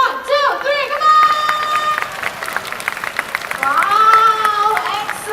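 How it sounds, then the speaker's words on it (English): Crowd at a bird show in a park shouts and cheers together in a loud, sustained burst, with some clapping, high voices and children calling out, swelling again toward the end. "excellent cheering"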